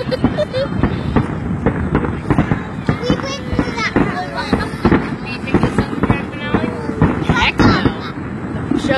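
Fireworks show at Twin Falls in 2016, with a rapid string of booms, pops and crackles at a distance, echoing, while people chat nearby throughout.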